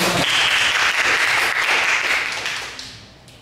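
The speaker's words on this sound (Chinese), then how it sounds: "我们给自己一个掌声，好不好？" A church congregation applauds together, a dense burst of clapping that starts loud and full, then gradually thins and fades toward the end.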